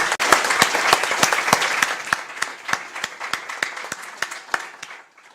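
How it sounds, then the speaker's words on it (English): Audience members at a Yerevan Dialogue business discussion applaud the Minister: brisk, distinct claps ring out close by, thinning to scattered slaps as the clapping gradually dies away into silence. "Please join me in applauding the Minister for his efforts."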